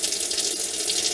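Hot water runs steadily from the tap of a Geesen GE090T tankless water heater, a continuous near splash and hiss with no pauses and no voices.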